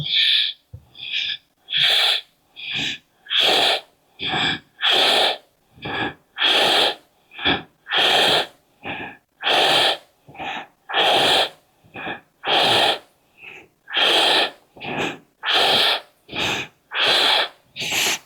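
Ujjayi breathing during a yoga session: a steady run of about twenty breathy, hissing breaths with short gaps between them, close and alone with no talk.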